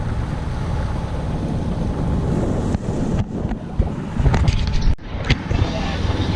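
A Dana 24 sailboat motor sailing under main off Catalina Island, steady wind rushing over the microphone with water wash and a low engine drone, a few knocks and bumps, no clear talk.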